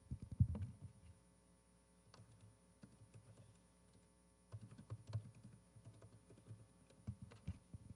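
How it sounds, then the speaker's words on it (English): Quiet bursts of typing on a computer keyboard, close by, coming in two clusters separated by a pause of about three seconds, with no talking. "So I'm just going to type into the prompt here."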